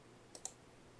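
Two quick, faint computer keyboard clicks land close together while someone types, with near silence around them.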